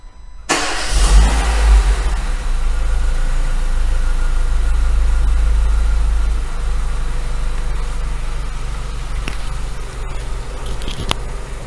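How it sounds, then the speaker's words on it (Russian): A Renault Megane 2 cranks and starts, then runs loud and close at a rough idle while the mixture is controlled by the oxygen sensor, with a brief rev near the start before settling to a steady drone. "А сейчас запустим и посмотрим, какая жесть творится с машиной, когда идет регулировка по кислородному датчику."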